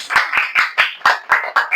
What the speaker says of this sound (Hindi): ताली बजाओ जोर से, बजाओ जोर से ताली।